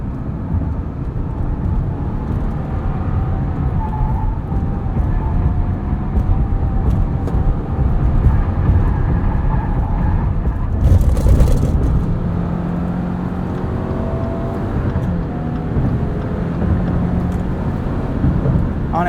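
A 2021 Mazda CX-30 and a 2021 Subaru Crosstrek accelerate hard side by side on the road, a loud sustained drone of engine and road noise with rising tones as they pull, no talking.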